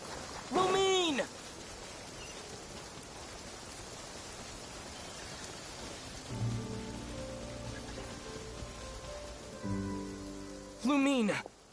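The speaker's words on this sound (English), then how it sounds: "Oh, it's raining." Steady rain falls in the Genshin Impact video game, a constant hiss of ambient downpour; spoken voices break in at the start, in the middle and at the end.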